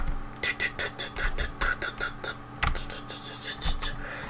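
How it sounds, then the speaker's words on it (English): Repeated scraping, rasping strokes in a quick uneven rhythm, a hoe scratching dry earth in Minecraft, fairly quiet and close. "I love the sound of hoeing down the ground."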